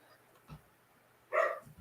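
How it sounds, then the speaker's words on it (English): Dogs bark outdoors in summer, two short distant bursts, the louder one near the end, faint behind a quiet indoor room. "The kids and the dogs are out in full force."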